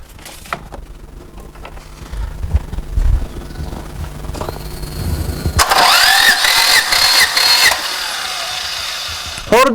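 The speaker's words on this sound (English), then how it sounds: "Crank the engine while you fully open the throttle valve." A car engine cranks with its throttle valve held fully open during a compression loss test. After a quieter stretch, a loud, steady whirring starter churn takes over partway through and holds to the end.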